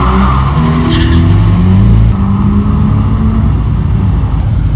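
Nissan Skyline racing car at Goodwood, a loud, close roar of a hard-driven engine with tire noise. The low drone holds steady throughout and shifts pitch partway as the car passes.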